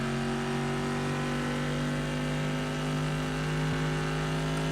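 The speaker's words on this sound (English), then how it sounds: "But man, I freaking love the sound of this car." A Le Mans race car in rFactor 2 holds a steady, loud engine drone with a strong humming tone, roaring continuously at near-constant pitch with no talking.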